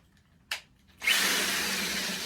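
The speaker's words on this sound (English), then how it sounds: "get my cutting device, my drill, line it up with that as best I can" A brief whir, then a power drill bites into wood with a loud, steady grinding hiss that continues close up.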